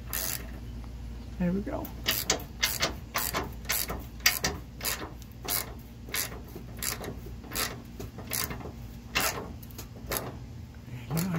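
Ratchet wrench tightening the lower nut on an HWH RV slide room mechanism, a steady series of close, sharp clicking strokes in bursts, with someone speaking briefly over it.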